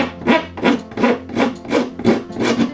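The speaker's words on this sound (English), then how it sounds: "I can take a decent wood rasp. This is fairly coarse" A coarse wood rasp files down a wooden part during a bench restoration, giving six rhythmic, scratchy strokes about half a second apart, close and fairly loud with no other sound.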